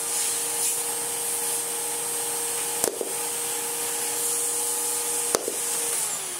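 A restored 1930s Hoover 825 antique vacuum cleaner runs with a steady, droning whine at close range, with two sharp clicks or knocks breaking the continuous hum.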